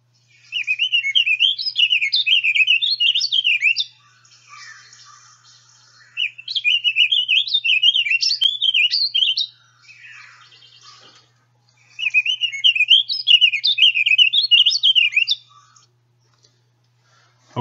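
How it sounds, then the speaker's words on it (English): A vireo sings three bursts of rambling, rich warbling, each about three seconds long, separated by quieter pauses. The phrases are clear and close, with no talk over them. "is a rambling, rich warble"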